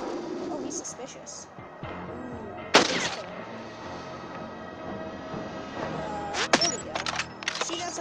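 Sniper rifle shots from the Hitman Sniper game playing on a tablet ring out as two sharp cracks several seconds apart, heard over a quiet game backdrop while a person talks throughout.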